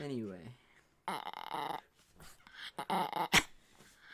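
A dog growls and whimpers right up against a microphone, close and fairly loud, in short broken bursts of rough grumbling with yips and breathy sounds between them, and no human talk over them.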